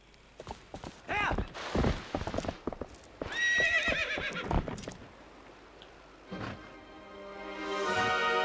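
A horse in the video game Zelda Twilight Princess gallops with quick rhythmic hoofbeats and lets out several loud, close whinnies and neighs, with game sound effects in between.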